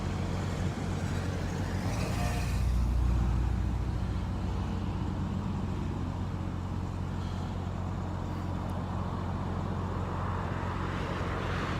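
A military vehicle rolls past on a road with a loud, close engine and tire rumble that swells, then eases into a steady traffic drone.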